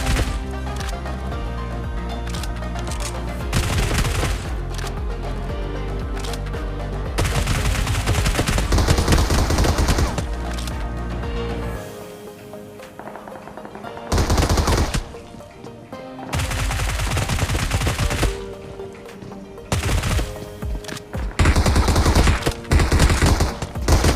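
UMP submachine gun fire in PUBG Mobile on the Military Base map, loud repeated bursts and sustained automatic volleys broken by short pauses.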